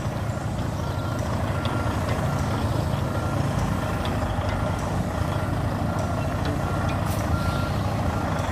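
A truck hauling a container chassis trailer reverses, its backup alarm beeping steadily over a loud, rumbling engine, with faint voices in the background.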